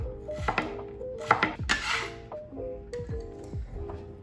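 Knife chopping shallots on a cutting board in a home kitchen, a handful of quick sharp chops and taps at an uneven rhythm, close and fairly quiet.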